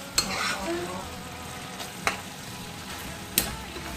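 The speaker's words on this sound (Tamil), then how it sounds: "And then you stir it well." Gravy cooks in a pan while a spoon stirs through it, an even background sizzle punctuated by three distinct metallic clinks spaced about a second and a half apart, close by and without speech.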